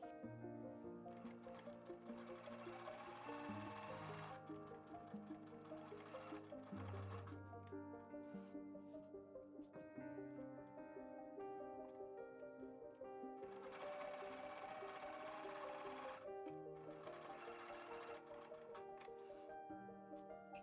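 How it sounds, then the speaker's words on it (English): A sewing machine stitching the sides of a fabric face mask runs in bursts, its rapid mechanical stitching whirring on and off with brief pauses between runs, close and clear. "Take it to your sewing machine and stitch each side."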